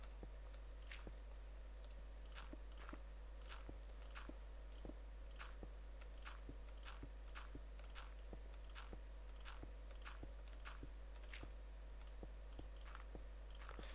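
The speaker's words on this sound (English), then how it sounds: "Sorry if you can just hear my mouse clicking over and over again." A computer mouse clicks over and over during a Minecraft building session, a steady run of sharp, close, fairly quiet clicks at roughly even intervals over a constant low hum.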